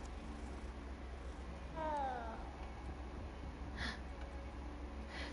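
A single short meow-like cat call with rising harmonics rises over a steady background hum, sounding synthetic, from the video game Hogwarts Legacy.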